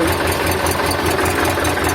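An Ursus C360 tractor engine runs loud and close, a steady throbbing diesel idle with a regular low knocking pulse and constant mechanical vibration.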